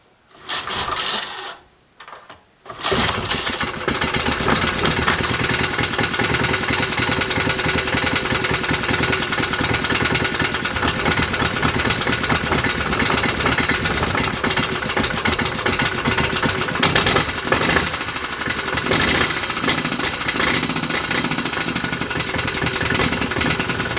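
Motor Sich D-250 engine running steadily after starting, a loud continuous mechanical clatter and drone that fills nearly the whole stretch after a few brief stuttering bursts at the start.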